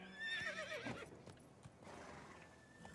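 A horse in the video game The Witcher 3 lets out a loud, quavering whinny, followed by a few hoof clops on hard ground.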